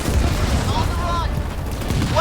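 Gunfire from air units in the real-time strategy game Halo Wars 2: dense, continuous rattling shots and booms mixed with game sound effects and chirps, loud and close throughout.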